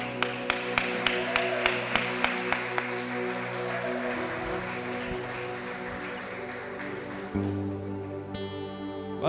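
A church congregation claps sharply in steady rhythm over sustained worship music for the first few seconds. The clapping then fades, leaving the music to carry on alone.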